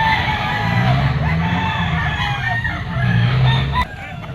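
A bull stag rooster crows loudly and close by, two drawn-out calls separated by a brief pause, with no talk over them.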